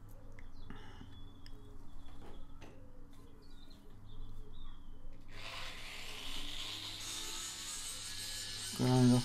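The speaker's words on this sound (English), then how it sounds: "Grind off a bit of the galvanising." An abrasive grinder removes galvanising from a steel pipe for a pipe bender stand. After some quiet handling noises, a loud, steady, rough hiss of grinding starts and runs through the rest of the clip.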